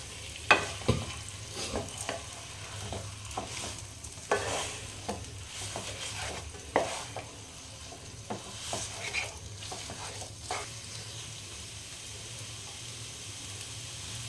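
New potatoes frying in a pan while being stirred through with spices for aloo chop, a steady low sizzle broken by repeated scraping stir strokes, close and moderately loud, no voices.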